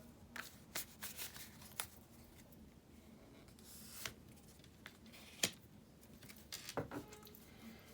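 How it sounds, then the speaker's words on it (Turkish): Tarot cards being shuffled and drawn by hand: soft, quiet riffling and sliding with scattered light snaps and taps, close by and with no voices. "Bir de aşkla ilgili bir kart seçelim."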